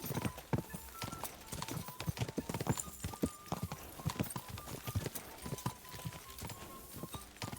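In Kingdom Come: Deliverance II, a horse's hooves beat out a rapid, continuous gallop, dense and close, with rhythmic thuds running throughout against a soft ambient game backdrop.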